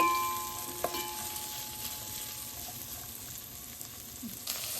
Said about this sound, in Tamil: வெங்காயம் கொஞ்சம் லைட்டாக வதங்கட்டும்